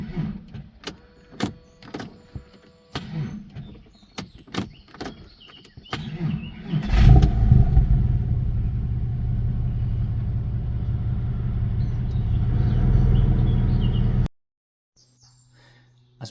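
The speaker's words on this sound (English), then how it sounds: "This is what a hot start looks like on the car at the moment." A Porsche 996 with a slow hot-start fault: the starter cranks sluggishly in a long, steady, loud grinding whir after some short clicks, then cuts off abruptly.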